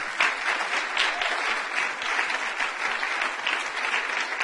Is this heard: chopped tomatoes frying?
no